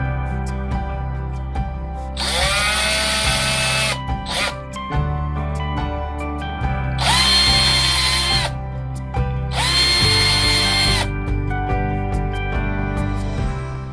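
A power drill bores holes to fasten a mini dirt bike seat to its frame. It runs in three loud, sustained whining bursts of about two seconds each, with a short zip between the first two and some quieter handling noise.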